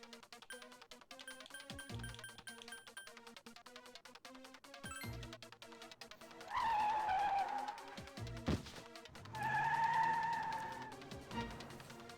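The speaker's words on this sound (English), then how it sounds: "A car comes speeding down the road" A car in a video game speeds down a street, its engine revving in rising and falling tones over a background of game music and chimes, loud and close, with no one talking.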